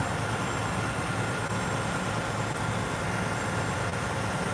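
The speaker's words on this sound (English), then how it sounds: "Yeah, I told you it's loud. That guy's truck." A truck idles loud and steady outside, its broad engine rumble constant with no breaks and no voices over it.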